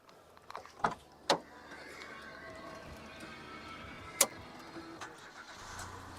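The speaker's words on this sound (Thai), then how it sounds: "สตาร์ททีเดียวติดนะครับ" A 2012 Nissan March starts up: a few sharp clicks and a brief cranking burst, then the small engine settles into a quiet, steady idle, with a couple of faint knocks afterward.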